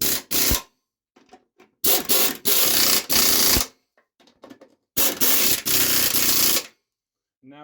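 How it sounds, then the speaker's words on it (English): Air impact wrench tightening bolts on a lawn mower engine, firing in three loud rattling bursts separated by quiet gaps with faint handling clicks between, heard up close. "I like to go back with an impact and tighten them, because you want these really tight"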